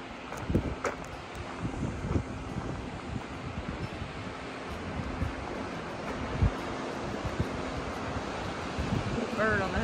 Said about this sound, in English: Hear the ocean out to the right.